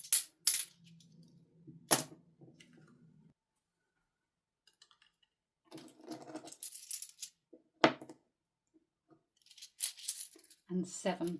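Coins from a cash-stuffing savings count drop in scattered bursts: a few bright clinks near the start, then a long quiet pause, followed by further irregular metallic rattles and taps, close to the microphone.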